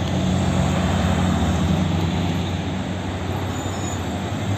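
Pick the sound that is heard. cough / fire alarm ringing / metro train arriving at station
metro train arriving at station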